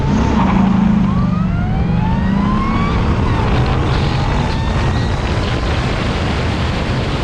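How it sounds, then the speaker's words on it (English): A Dodge Viper and an Audi S4 launch side by side in a drag race, engines roaring loud and continuous with rising pitch sweeps as they accelerate hard, the noise holding steady throughout. "I won't launch the Viper until I see the S4 start to move"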